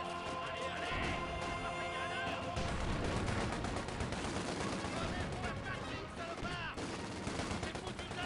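Gunfire in the Company of Heroes 2 video game, set at Dunkirk: rapid machine-gun bursts and rifle shots crackle densely, with shouted French voice commands mixed in among the battle noise.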